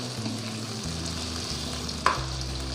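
Cumin seeds fry with already fried potatoes in a pan, a quiet steady sizzle with one brief sharp clink of a utensil partway through.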